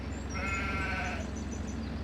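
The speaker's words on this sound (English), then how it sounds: "And some hungry sheep." Sheep bleat on a farm where a ram and goats are also penned, one drawn-out nasal bleat up close, with other faint calls and rustling behind it.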